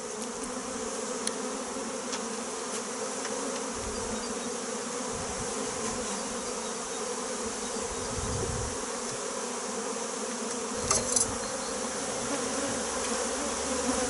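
A dense honeybee hive hums steadily at close range, the buzz continuous and even throughout with a brief brighter flutter near the end, and no voices.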